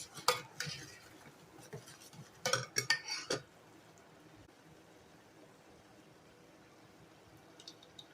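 A spoon stirs food in a pot as it heats on the stove, giving a few scraping, clinking strokes near the start. The strokes stop after about three seconds, leaving a quiet background.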